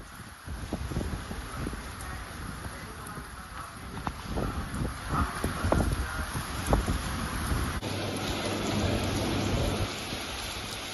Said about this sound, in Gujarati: પવન સાથે આ વરસાદી માહોલ હાલમાં સર્જાઈ રહ્યો છે।